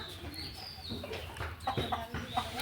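Hens clucking inside a coop, thirsty after their water ran out, a steady stream of short clucks and murmurs close by with no talk over them.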